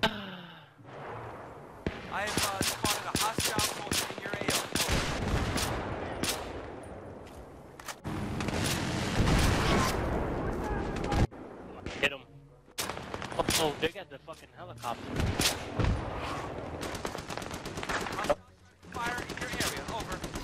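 Gunfire in a Battlefield 3 multiplayer match, including Magnum pistol shots: repeated sharp bursts and volleys throughout, loud and close, mixed with other battle noise and occasional talk.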